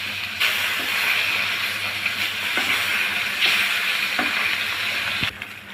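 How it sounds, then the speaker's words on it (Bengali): Hilsa fish pieces frying in hot soybean oil in a wok give a steady, loud hiss and sizzle throughout, broken by a few brief clatters and a sharper knock near the end. "তেলটা গরম হয়ে গেলে দিয়ে দেবো মাছগুলা। লাল লাল করে আমি ভেজে নিব।"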